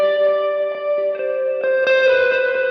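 Sustained guitar notes ring out through a long reverb on a JHS 3 Series pedalboard, each picked tone blooming into a lingering, shimmering wash as new notes stack over the decaying tail.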